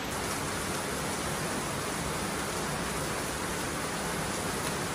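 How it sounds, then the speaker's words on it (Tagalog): Heavy rain pours steadily in a dense, unbroken hiss with no pauses or voices, a constant wash of falling water throughout. "wala pa rin tigil yung ulan. Kita nyo naman yan, patak pa rin ang patak"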